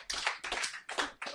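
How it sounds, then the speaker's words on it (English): A few people clapping in quick bursts, four short rounds separated by brief pauses, close by and fairly quiet. "The claps are building."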